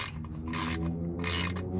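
A ratchet wrench tightens the oil drain plug on a second-generation Toyota Prius, giving rapid clicking bursts in short strokes with brief pauses between them, close and with no talk.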